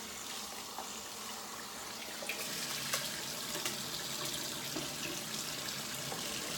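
Sprouting seeds are rinsed under running tap water: a steady, close splashing flow lasts throughout, with a few slightly louder spatters partway through and no talking.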